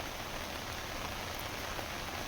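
Heavy rain pours steadily in the Uttarakhand hills, a dense, unbroken hiss of drops striking surfaces close by. The downpour is loud and even, with no voices.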